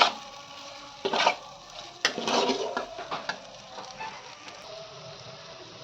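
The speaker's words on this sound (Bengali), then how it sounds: "পেঁয়াজটাকে ভালোভাবে ভাজবো" Chopped onions frying in a pan, with a steady close sizzle broken by stirring scrapes and clinks of a utensil against the pan, for a few seconds without talk.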